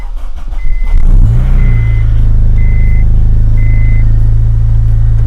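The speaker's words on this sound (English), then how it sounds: "Now I'm going to start the car." An Acura RSX Type S engine cranks and catches, then settles into a steady idle, while a chime beeps repeatedly in the cabin.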